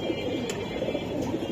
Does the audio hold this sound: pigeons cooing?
yes